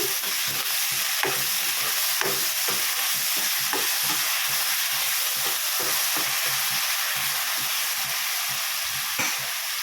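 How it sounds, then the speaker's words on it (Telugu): Tomato rasam being stirred in a pot with ginger-garlic paste, giving a steady loud sizzle and hiss with repeated scraping strokes of the spoon throughout, no voices. "కొద్దిగా కలుపుకోవాలి ఇట్లా"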